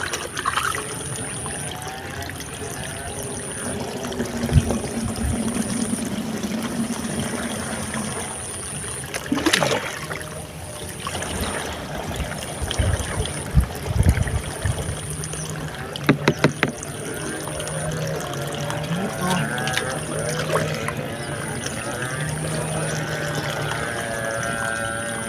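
Water scooped and poured on a rice farm after heavy rain, with trickling and splashing at intervals over a steady outdoor background, a high insect-like whine pulsing throughout, and a few knocks and handling noises along the way.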